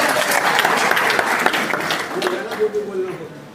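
Audience applause for a child at a toothpaste testimonial event, steady dense clapping filling the room throughout, with a voice speaking briefly near the end.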